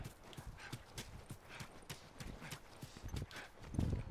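Horse hooves clip-clopping in the video game The Last of Us, a steady rhythmic series of hoof strikes at moderate distance over a low ambient bed, with no speech.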